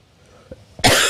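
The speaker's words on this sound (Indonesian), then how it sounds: "Saya udah izin batuk tadi ya" A single sharp cough from someone speaking at an Islamic lecture on Ramadan giving, loud and close, preceded by a couple of small throat sounds.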